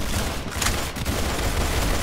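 Rapid, continuous gunfire from a weapon in the Roblox game Arsenal, dense and loud, rattling without a break.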